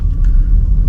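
A Cadillac CTS 3.6 V6 engine purrs steadily while driving, a low, continuous rumble close by with smooth, even road noise and no voices.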